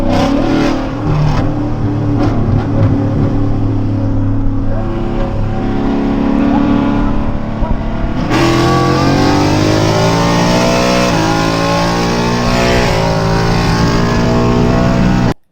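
A stock 2020 GT500 race car accelerates hard while racing Z06s, a loud sustained engine roar with rising pitch through gear changes, continuous and close.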